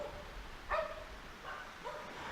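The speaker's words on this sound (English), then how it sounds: "Now all the doggies are barking." Dogs bark a few times in the distance, faint yips and barks scattered over a quiet background, with no talk.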